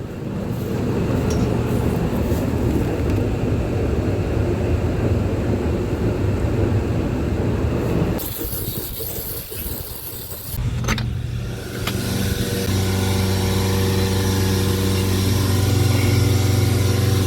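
A farm tractor engine runs steadily with a deep low hum, loud and close, dipping briefly as it shifts before resuming a strong steady drone.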